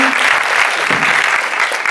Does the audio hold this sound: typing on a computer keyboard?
no